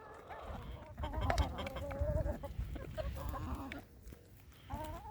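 Farmyard chickens eating fresh greens, pecking and scuffling close by, with busy overlapping clucks and squawks and one brief lull.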